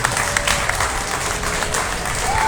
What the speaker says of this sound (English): let's give him another nice big round of applause